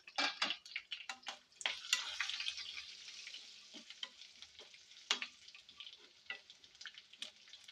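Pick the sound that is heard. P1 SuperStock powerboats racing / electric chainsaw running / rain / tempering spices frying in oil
tempering spices frying in oil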